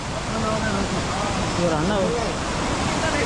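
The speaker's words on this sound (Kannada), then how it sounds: "ಒಳ್ಳೆ ಫಾಲ್ಸು" Devkund waterfall in Raigad, Maharashtra, in monsoon flow, a dense, steady roar of falling water close by, with voices talking over it.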